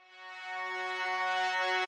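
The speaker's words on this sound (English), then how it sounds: "There's also this brass swelling" A brass section swells in a dubstep track breakdown, a sustained harmonic tone that rises steadily in loudness over nearly two seconds and then cuts off abruptly, alone without voices.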